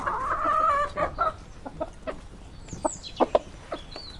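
A hen clucks in a short series of irregular calls, starting with a drawn-out squawk and continuing with brief clucks, close and fairly clear with no talk.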